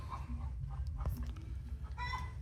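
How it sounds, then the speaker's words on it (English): A neighbor's chickens cluck faintly in the distance over a low outdoor rumble, with a brief call standing out near the end. "My neighbor has chickens."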